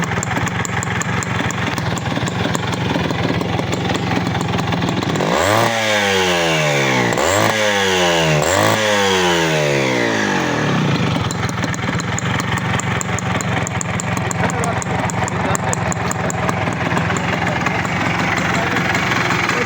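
A Honda CD motorcycle engine (CD-I H100S) is kick-started and then idles close by. It gives a few rising revs that fall back, then settles into a steady idle under background noise.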